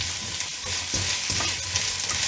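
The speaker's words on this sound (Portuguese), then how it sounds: "É só ir mexendo" Shredded cabbage and carrot fry in a single pan with a steady, loud sizzle, and a utensil pushes through the vegetables in a few soft stirring scrapes beneath the hiss.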